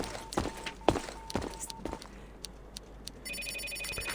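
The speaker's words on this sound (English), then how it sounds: "The phone on the wall, used for internal communication, begins to ring." A wall-mounted internal telephone in the video game Reverse: 1999 rings in short bursts, with a few thuds and footstep-like knocks around it and no talk.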